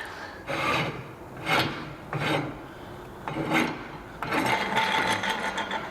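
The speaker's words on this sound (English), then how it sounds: "I'm going to get a little extra with the wrench here. Make sure she's good and tight." A wrench tightens a bolt on a Mitsubishi Minicab van lift kit, giving close, rhythmic rasping strokes in several separate pulls followed by a longer grinding run, with no talk.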